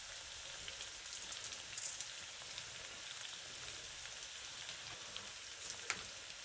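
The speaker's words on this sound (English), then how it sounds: "mix them well with the onion and let it fry" Onions fry with methi and roasted mustard seeds for a prawn curry, a faint, steady, fine crackling sizzle with occasional small pops and no voices.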